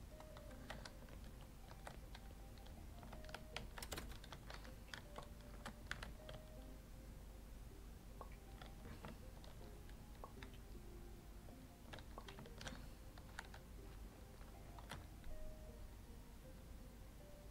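Continuous typing on a computer keyboard, a steady run of close, uneven clicks and key taps lasting throughout with bursts of faster strokes and no talking.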